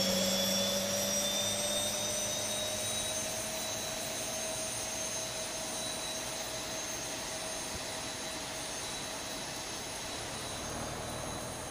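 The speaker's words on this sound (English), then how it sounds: "You can just hear the engines." Boeing 737 jet engines in the X-Plane 11 flight simulator give a steady, faint whine with a broad rushing roar, holding even and unbroken for the whole stretch with no voices.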